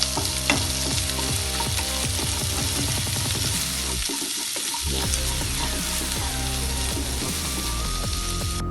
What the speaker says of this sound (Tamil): அடுத்ததாக பொடியாக கட் பண்ண சின்ன வெங்காயம் 2 ஸ்பூன் அளவுக்கு போட்டுக்கலாம். இதையும் நல்லா வதக்கிக்குவோம்.